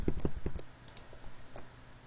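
Computer keyboard keys pressed while controlling a Scratch program, a quick burst of close, sharp clicks at the start followed by scattered lighter taps.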